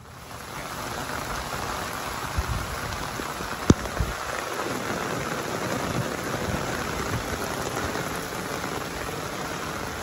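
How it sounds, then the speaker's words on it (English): Heavy rain pours down in a steady dense hiss of drops drumming on surfaces nearby, with one sharp click partway through. "We got some crazy rain."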